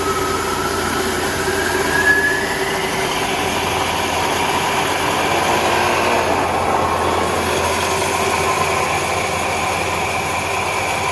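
A rock-cutting saw runs continuously with a lot of water flowing over the blade, a loud steady broadband mechanical roar with a hum underneath that persists throughout without pauses.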